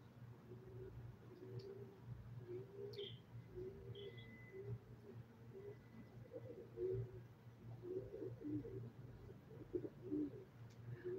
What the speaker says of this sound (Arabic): عندي طيور كثير والله